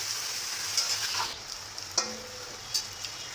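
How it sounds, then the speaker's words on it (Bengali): Malabar spinach and potatoes fry in a pan on a gas stove, giving a steady close sizzle with a few soft stirring clinks and scrapes, no voices. "এখন হচ্ছে এই যে পুঁই শাক আর আলুগুলো দিয়ে দেবো"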